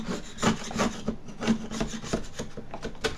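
A custom-made scraper gets its edge sharpened by hand, a close run of repeated rasping, filing strokes in an uneven rhythm, moderately loud and heard alone without speech.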